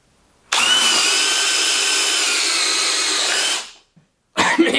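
A power drill bores into a 6x6 pressure-treated wooden post, a loud, high whine starting abruptly and holding for about three seconds before winding down, followed by a short burst of further noise.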